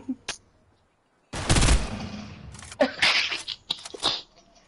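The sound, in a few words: gunfire in the video game Fortnite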